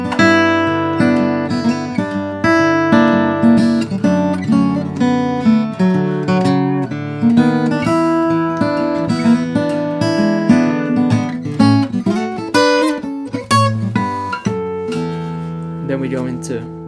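Fingerstyle acoustic guitar plays the B section of a song, with a steady stream of plucked melody notes over bass notes and chords, close and clear for the whole stretch.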